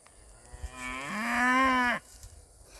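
A Watusi longhorn bull lets out a single drawn-out moo, rising then holding steady for about a second before cutting off sharply, heard clearly at moderate distance with faint background noise.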